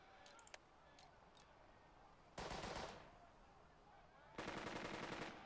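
Gunfire from the WWII tactics game Burden of Command during an assault on a hotel: small clicks, then two dense, loud bursts of rapid automatic fire over faint background noise.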